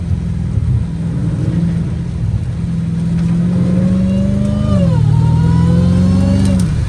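A Dodge Hellcat Redeye is driven on a flooded, wet road during a hurricane, its loud, close engine droning steadily as the pitch climbs, drops with a gear change, then climbs again.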